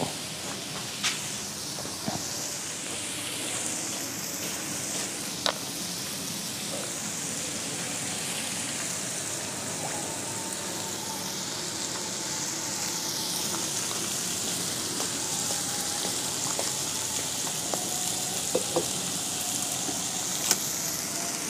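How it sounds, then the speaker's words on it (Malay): Water sizzling and hissing in a hot wok set over a wood fire, a steady broadband sizzle lasting throughout with faint crackles and small pops, close and continuous with no speech. "So masukkan air sikit untuk mengelakkan kuali kayu api ni panas"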